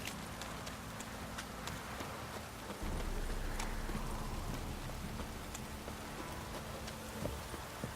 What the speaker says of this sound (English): Looks like rain. Look, this downpour's a bastard, it is.